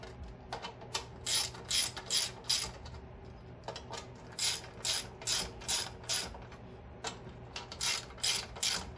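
Bolts on the air cleaner of a Porter Cable 8000 watt generator are tightened with a ratchet, giving repeated bursts of rapid clicking in a steady rhythm, close and fairly quiet.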